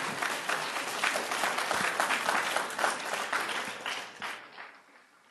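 A room at a board meeting breaks into applause, a dense, even patter of many hands clapping that holds steady before thinning and fading away near the end.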